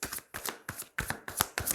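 Tarot cards set down one after another on a table during a reading, six quick soft slaps and slides in an even rhythm, close and fairly quiet with no talk.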